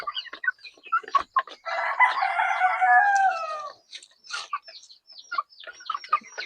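Backyard chickens cluck in quick close bursts while a rooster crows in one long drawn-out call in the middle, all fairly loud and near with no talk.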